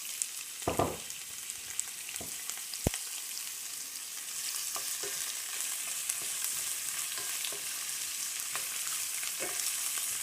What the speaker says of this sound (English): Next, we're going to add onion.